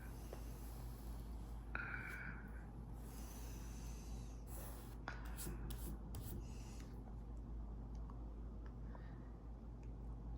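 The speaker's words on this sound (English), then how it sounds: "I'm going to varnish right along here." A brush spreading varnish across a painting, faint soft strokes and rubbing close up, intermittent over a low steady background hum with no talking.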